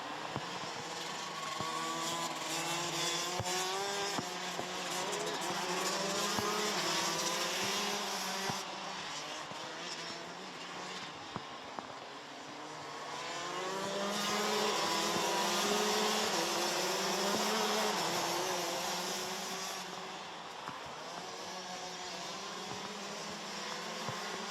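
Rotax Max racing karts run continuously on the Wackersdorf track during a Euro Trophy Masters final, a dense, loud buzzing engine drone that rises and falls as karts pass, with no talk.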